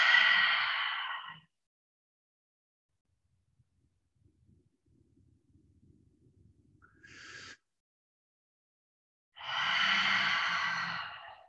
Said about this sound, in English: If you enjoy the power of that Ujjayi breath,